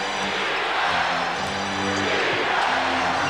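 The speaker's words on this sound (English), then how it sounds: "Chant of defense from the Madison Square Garden crowd" A packed Madison Square Garden crowd at a 1997 Bulls vs Knicks NBA game roars steadily, its loud, dense chant of defense filling the arena without a break.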